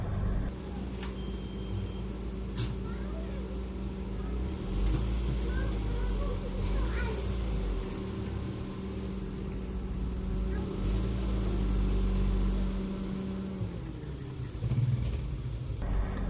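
Mitsubishi Xpander Cross with a manual gearbox reversing on half clutch with the handbrake on, its engine droning steadily inside the cabin with RPM swelling and dropping, low and continuous.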